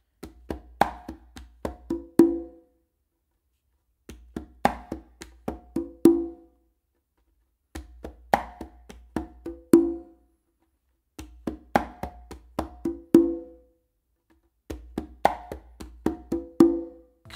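Conga drum plays a tumbao pattern with two open tones, the first softer than the second; five short repeated phrases of quick slaps and taps, each ending in ringing open tones, separated by brief silences, close and alone.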